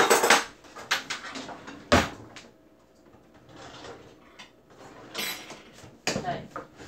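Dishes and cutlery clatter in a kitchen drawer or cupboard while someone rummages for a big serving spoon, sharp clinks in separate bursts with quieter shuffling between.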